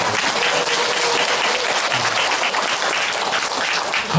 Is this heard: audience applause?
yes